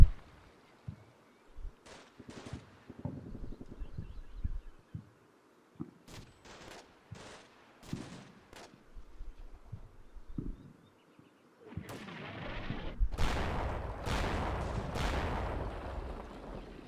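Gunfire in the video game Combat Mission Shock Force 2, scattered sharp single shots and short bursts spread across the clip, with a denser run of rumbling fire toward the end.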